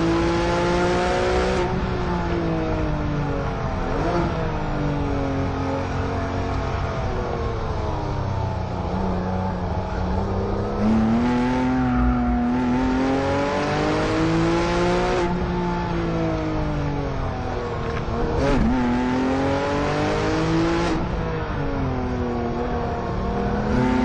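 A Porsche 911 sports car engine revs up and down repeatedly, loud and close, its harmonic pitch rising and falling in long sweeps with no talking.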